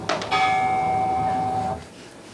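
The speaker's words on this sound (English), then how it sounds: "Did you hear the bell of peace?" A single bell rings out once and sustains with bright, steady tones for about a second and a half before being cut off, heard fairly loud in what sounds like a school stage performance.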